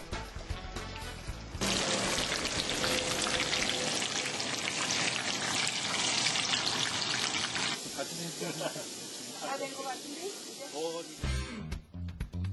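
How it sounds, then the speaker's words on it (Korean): Halved chili peppers stuffed with filling and coated in flour and egg wash fry in plenty of oil in a pan, giving a dense, steady sizzle that later thins into scattered crackles, with a voice speaking at times. "밀가루와 달걀물을 차례로 입힌 다음 기름을 넉넉히 두른 팬에서 노릇하게 튀기는 것이다"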